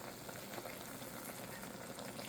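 Mushroom water splashes into a hot wok while Cantonese pan-fried noodles with seafood and roast pork cook, setting off a loud, steady sizzle and bubbling that carries on evenly with no talking.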